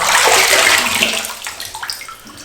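Water from a boot soaked fully in a creek pours out in a heavy splashing gush, loud and close at first, then trailing off into scattered drips and trickles.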